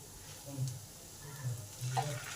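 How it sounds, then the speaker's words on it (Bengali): Ridge gourd peel paste is stir-fried with browned onions to dry out its moisture: a quiet, soft sizzle with gentle scraping stirs coming in small bursts. "এই জলীয় অংশটা নেড়ে নেড়ে শুকিয়ে নিতে হবে"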